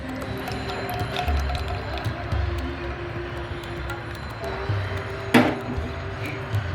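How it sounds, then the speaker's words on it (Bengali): Thai chili sauce and tomato ketchup are added to a bowl for a Korean-style fried chicken wing sauce, heard as faint, soft wet squishes and drips against a low kitchen background. "টমেটো কেচাপ দিয়ে দিচ্ছি আমি 4 টেবিল চামচ পরিমাণ"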